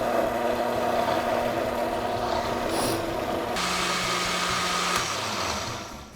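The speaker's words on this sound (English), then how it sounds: "I'm going to add them to the blender." A blender whirs loudly and steadily while blending softened chiles, its motor pitch shifting partway through as the speed changes, then winding down at the end.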